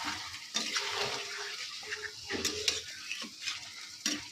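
Wet stirring and gentle frying of an onion, ginger, garlic, tomato and chilli paste in a pan for a light fish curry, a quiet close-up sizzle broken by spoon scrapes, without talk.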